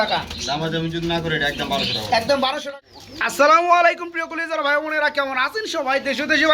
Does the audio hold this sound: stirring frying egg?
no